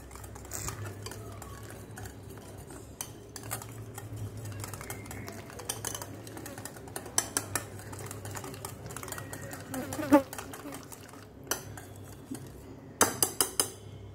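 Batter for ice cream being stirred after milk is poured in, giving soft scattered clinks and scrapes of a utensil against a bowl over a quiet kitchen hum, with a few sharper knocks near the end.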